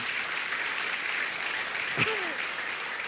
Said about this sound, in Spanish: ¿Cuántos dan un aplauso fuerte al Señor?